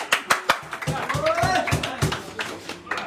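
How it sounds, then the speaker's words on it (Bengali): An audience at a gathering of Baul folk singers claps briefly, a few scattered sharp claps near the start and a handful more later, with someone talking over and between them. "সবাই তালি দেন সবাই"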